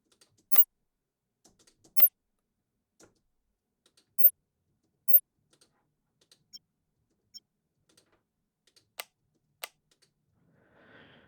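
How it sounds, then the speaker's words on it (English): Sci-fi interface effects sound as short, sharp digital clicks and blips, scattered sparsely and irregularly across near silence, some louder and some faint. "So there's some nice little interface, beeping type of sounds."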